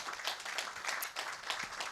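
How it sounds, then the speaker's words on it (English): Audience applause for a panel at the close of an evening forum on bank corporate governance and financial stability, a steady patter of many hands at moderate, somewhat distant level lasting about two seconds. "I think they deserve a round of applause"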